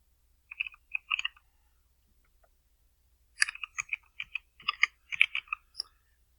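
Computer keyboard typing in a word processor: a short burst of key clicks, a pause, then a longer run of quick, close, crisp keystrokes with uneven rhythm, no voices.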